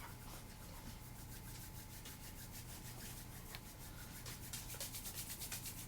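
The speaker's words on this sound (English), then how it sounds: "Please bring your palms together, rubbing them to create some heat." Palms rubbing briskly together to warm the hands during a meditation, a faint, steady, rhythmic swishing friction that continues throughout with no talking.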